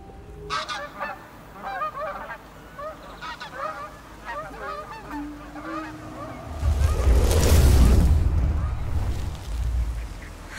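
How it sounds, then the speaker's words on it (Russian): A flock of geese honks in flight, repeated overlapping calls at moderate distance, followed by a louder low rumbling swell in the second half. "Хорошие птички."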